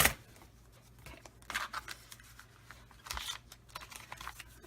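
Scissors snip through paper for a December Daily holiday scrapbook page, giving a few short, crisp cuts in separate bursts close to the microphone with quiet gaps between them.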